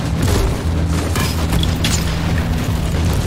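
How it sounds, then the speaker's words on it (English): Missiles landing and exploding in Warhammer 40,000: Inquisitor, heard as repeated booming impacts and rumbling bursts layered over steady low battle drone and mechanical hum, loud and continuous throughout. "A couple of missiles landed"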